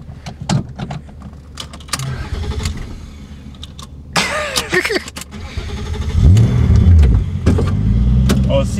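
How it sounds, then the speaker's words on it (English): A car engine cranks and catches, then settles into a steady rumbling idle close by, with some clicks and shuffling beforehand. "You gotta start the car."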